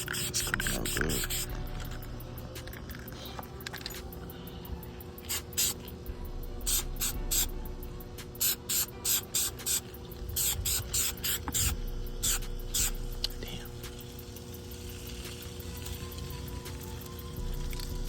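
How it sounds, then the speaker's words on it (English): Short hissing bursts of chrome spray paint on a 2012 Chrysler 300 front bumper splitter come in quick repeated sprays, close and fairly quiet, with softer background noise between them. "Spray paint this chrome right quick"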